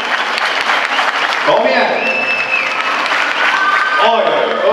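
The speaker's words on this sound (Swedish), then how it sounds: "klappa på" An ice show audience claps in a dense, continuous roar of applause, with an announcer's voice calling out over it and a brief lull before the clapping swells again.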